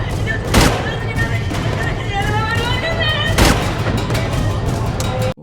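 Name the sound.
gunshots in the movie The Bourne Supremacy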